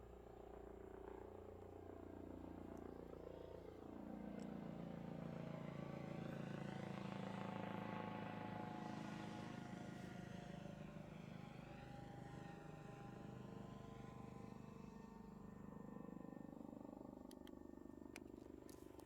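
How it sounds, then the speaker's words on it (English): A large helicopter passing overhead above Greenwood cemetery, a faint, distant rotor drone that swells toward the middle and slowly fades, steady throughout with no talk. "A big old helicopter flying over."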